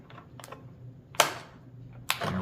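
Scissors snipping through plastic action figure packaging for a TMNT Splinter toy, giving a few sharp cuts heard close by, with light handling rustle in between.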